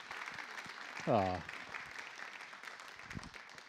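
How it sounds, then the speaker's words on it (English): A live audience applauds netball player Tegan Philip with a steady wash of clapping throughout, while a voice briefly exclaims partway through. "Do you want to give Tegan a round of applause?"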